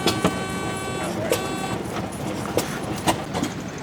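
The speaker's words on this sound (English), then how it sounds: "There's an engine you don't see too often. The wind wheel." Old Wind Wheel stationary engine running at a swap meet among other engines, heard as a slow, steady series of sharp exhaust pops roughly every half second over a busy outdoor mechanical background.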